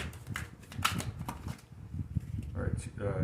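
Tarot cards riffle and slap in quick shuffling bursts, then single cards are drawn, close and fairly loud, with a voice talking softly in the background.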